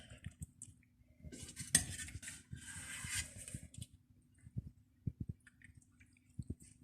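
A spoon scraping and clinking in a dish while pink beans and carrots are spooned onto meat, with soft wet squishes and a few sharp metallic taps, close and moderately quiet, with no talking.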